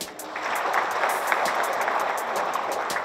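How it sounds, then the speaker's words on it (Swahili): An audience at an annual engineers' day meeting claps steadily, a dense and even wash of applause that holds for a few seconds with no voices over it. "Naomba mjipigie makofi."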